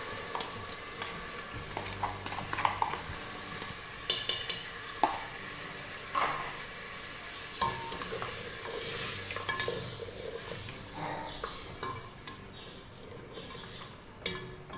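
Mutton frying with yogurt for korma in a pot, with a spoon stirring and scraping in irregular clinks and scrapes over a soft, continuous sizzle, close up and without talk.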